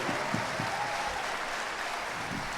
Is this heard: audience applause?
yes